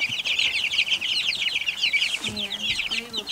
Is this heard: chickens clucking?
yes